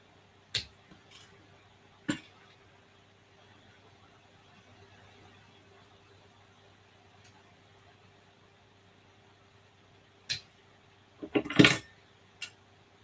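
Chopping small wooden pieces for miniature parlor tables in a dollhouse-scale haunted mansion build, heard as a few sharp, isolated cuts spaced across a quiet room, ending in a quick cluster of clicks.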